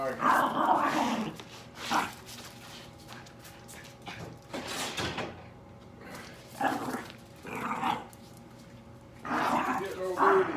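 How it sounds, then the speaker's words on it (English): A dog growls and barks in a few bursts near a 1990 Harley Davidson FLHTC being repaired in a workshop, with someone talking over it. "Get out of here! Vicious dog."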